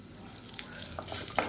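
Soft, steady sizzling of urad dal frying in hot oil, with small crackles and pops scattered through, fairly quiet.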